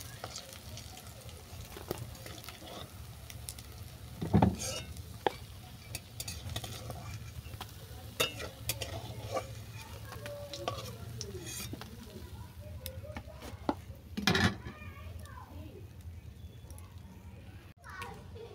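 Mushroom fritters are fried crisp in hot oil and lifted out. A soft sizzle runs under a few clinks and scrapes of a utensil, while voices, including children's, carry on in the background.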